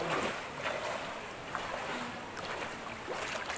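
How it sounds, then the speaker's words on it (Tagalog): Rushing water around a small boat on a strong river current, a steady broadband wash of flowing water and splashing, fairly close and continuous with no talk. "May bangka."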